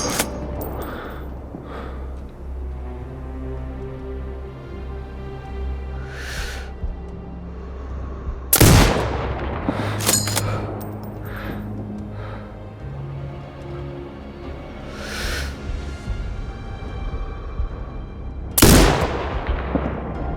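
Sniper rifle shots in the video game Sniper Ghost Warrior Contracts 2, a few sharp loud cracks spaced several seconds apart over a low game ambience with faint musical tones.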